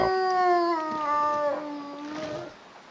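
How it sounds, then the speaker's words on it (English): A wolf howls close by in the survival video game The Long Dark, one long sustained wavering howl that dips in pitch and trails off, alone without talk. "Sounds like there's a wolf pretty close by."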